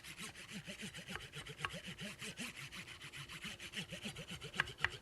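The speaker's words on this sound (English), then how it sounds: "you simply work your serrations until you bring your burr up on the back of the knife" A serrated knife edge is worked over a sharpening tool to raise a burr, giving a steady run of quick, rhythmic rasping strokes, close and moderately loud with no talking.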